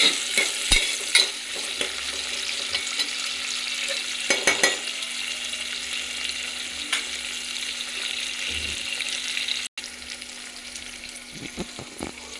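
Onions fry in a pan for a poori curry, crackling in a steady sizzle with a few stirring knocks and clinks, and a brief dropout near the end.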